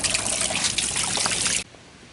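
Water running from a tap at a camp, a steady trickling splash that cuts off abruptly near the end, leaving quiet.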